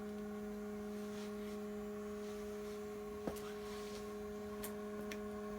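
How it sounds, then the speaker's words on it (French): A small fan inside a quail incubator whirs with a steady, faint electrical hum, broken by one soft click and a few light ticks near the end. "L'air il est recyclé, hein, il y a un petit ventilateur à l'intérieur."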